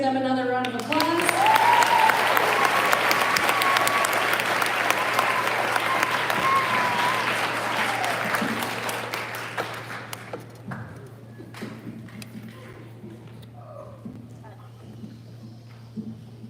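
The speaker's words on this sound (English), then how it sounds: "Let's give them another round of applause." Audience applause at a high school band finale concert, a loud, dense wave of clapping with some cheering that slowly thins and fades out into scattered claps, while a steady low hum runs underneath.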